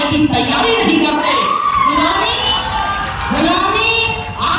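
An audience at a Sanskrit cultural programme during a Vedic science conference cheers and shouts loudly, a sustained roar of voices with swelling whoops rising and falling throughout.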